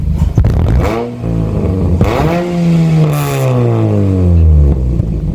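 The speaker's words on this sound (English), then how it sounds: "And there's that nice XForce Sport sound that we was aiming for on this vehicle" A 2006 Saturn Ion Redline engine with an XForce sport exhaust revs repeatedly, each throttle blip rising sharply then falling back to a rumbling idle, loud and close with no talk.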